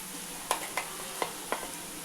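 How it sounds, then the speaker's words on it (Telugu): Ginger garlic paste fries with onions for a chicken mango curry, a faint even sizzle broken by four sharp spatula scrapes against the pan. "ఇప్పుడు అల్లం వెల్లుల్లి పేస్ట్ వేసుకుందాం"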